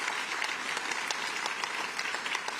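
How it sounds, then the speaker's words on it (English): Audience applauding a labor leader at a New York State government celebration, a steady wash of clapping hands from a crowd, moderately distant and fairly even throughout. "Let's give him a round of applause, Mario Salento."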